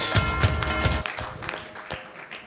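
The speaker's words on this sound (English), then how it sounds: "I think we should congratulate them with a huge round of applause." A conference hall audience at an awards session of the BizNxt International Conclave claps for award winners, a sharp burst of irregular hand claps that loosens into fewer, fading claps.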